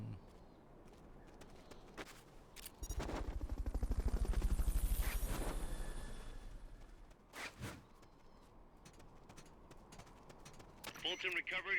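In the video game Metal Gear Solid: Peace Walker, a Fulton recovery helicopter swells into a loud rotor roar that peaks and fades over several seconds, surrounded by footsteps, clatter and spoken voices.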